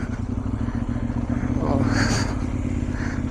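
A motorcycle on a cold winter ride from Quetta to Shaban in Balochistan drones steadily with rushing wind, and a rider talks over the engine noise.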